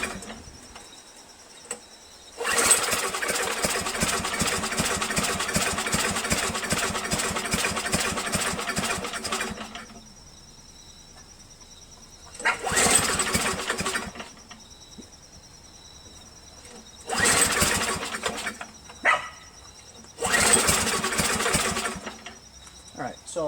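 A Craftsman dual-stage push snow blower engine that only runs on choke sputters to life in repeated bursts. It revs loud and close for several seconds, dies, then catches again in shorter runs, with quiet gaps between.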